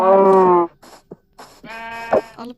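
Minecraft sheep bleat, with one long wavering bleat first and then a second drawn-out bleat after a few soft clicks.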